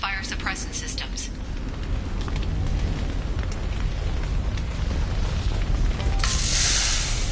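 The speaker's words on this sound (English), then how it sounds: "Vizier, these damaged pipes are on fire." Steady roaring rush of fire burning from damaged pipes in Mass Effect 2, a continuous loud broadband blaze filling the clip, with a brighter hissing surge near the end.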